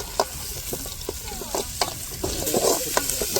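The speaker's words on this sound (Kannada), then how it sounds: "ಫುಲ್ ಓಲ್ ಸ್ಪೈಸಸ್ ಹಾಕೊಳ್ಳೋಣ ಅದು ಅವಾಗ ಒಗ್ಗರಣೆಗೆ ಹಾಕೋದಲ್ಲ ಇವಾಗಲೂ ಫ್ರೈ ಮಾಡ್ಕೊಳಕ್ಕೆ ಮಾತ್ರ ಹಾಕತ್ತೀನಿ" Whole spices fry in hot oil in a pan for a green biryani, a steady sizzle broken by a series of sharp scraping taps as a spoon stirs them, close up with no voices.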